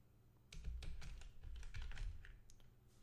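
Fingers type on a computer keyboard up close, a quick run of sharp clicks and taps after a brief quiet start, with no voices.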